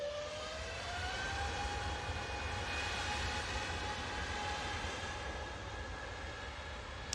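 Eurowings Airbus A320neo jet departing Manchester Airport for Düsseldorf, a steady loud engine roar with a rising whine that sustains throughout, heard from nearby with no talk.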